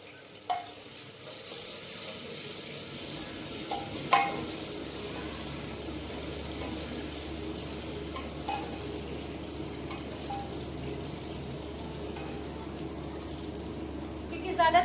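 Red onions fry in a pan at breakfast time, a steady low sizzle running throughout with occasional utensil knocks and stirring, while someone talks over it.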